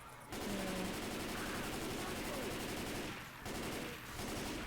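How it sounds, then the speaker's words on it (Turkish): Explosions and gunfire in the zombie shooter Left 4 Dead 2, a dense, loud, sustained roar of blasts and shots that dips briefly near the end, with a player's voice faintly mixed in. "nasıl patlamalar oluyor. Oy oy oy yanıyor cehennem"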